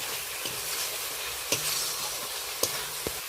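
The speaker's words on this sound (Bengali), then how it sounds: "সমস্ত কিছু মশলাগুলো একসাথে তেল ছাড়া পর্যন্ত ভালো করে কষিয়ে নেব।" Spice paste with chana dal and soybean fries in oil, a steady hiss broken by a few sharp scraping clacks of a spatula against the pan, close and continuous, with no talking.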